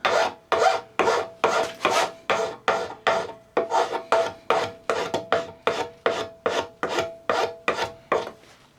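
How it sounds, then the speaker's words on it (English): A hand file rasps in steady, even strokes across a wooden saw handle, about twenty regular passes close up with no talking, a faint constant tone underneath. "I'm actually just using a different, less aggressive file just to shape this a little bit"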